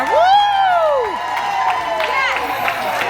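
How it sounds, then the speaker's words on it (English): Clapping and cheering at a home celebration, with a loud rising-and-falling whoop over scattered clapping, followed by further excited voices and cheers. "Clap for him, Amar."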